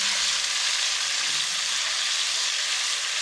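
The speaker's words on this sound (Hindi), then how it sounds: "अब इन प्याज़ों को ब्राउन कर लेंगे।" Chopped onion frying in a pan for a Mintoo Foods party rice dish, giving a steady, loud, close sizzle with no pauses and no voices.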